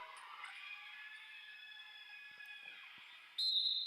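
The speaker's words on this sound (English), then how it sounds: "And we have another whistle." A referee's whistle blows during a women's college basketball game, a steady shrill tone held for several seconds over gym noise, then a second sharper, louder blast near the end.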